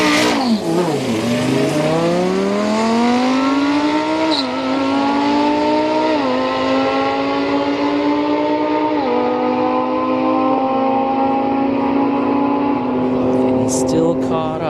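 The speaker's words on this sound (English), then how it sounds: "We got the Huracan. And he's going up against an Audi." A Lamborghini Huracan drag racing against an Audi at a street night event at Orlando Speed World, its engine roaring loud and close, climbing in pitch through several distinct upshifts as it accelerates down the strip.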